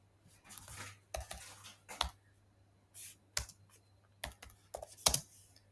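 Someone types on a computer keyboard in short, quick bursts of crisp key clicks with pauses between, close and fairly quiet, with no talk.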